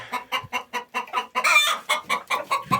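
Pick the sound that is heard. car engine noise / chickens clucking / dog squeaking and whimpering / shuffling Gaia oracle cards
chickens clucking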